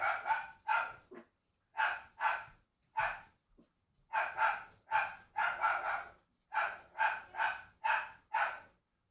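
Dogs bark in quick bursts of two or three, with short pauses between volleys, loud and close by.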